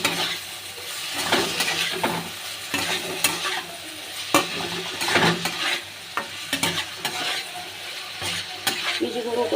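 Green chili and spices sautéing in a pan with a little water, a loud sizzle broken by repeated scraping strokes of a spatula against the metal, close and irregular.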